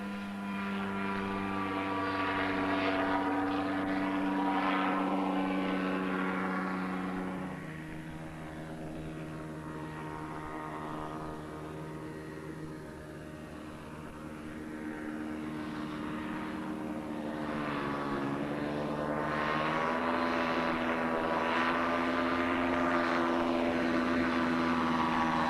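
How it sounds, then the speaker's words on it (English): A one-man microcraft air transporter flying overhead, its engine and propeller droning loudly with a strong harmonic whine that dips and shifts in pitch as it passes and turns, continuous throughout with no talking. "It's called a microcraft, a one-man air transporter."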